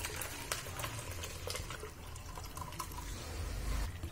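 Water drains from curdled milk strained through a cotton cloth for homemade rasgulla, a soft continuous trickle and drip heard close with no talking.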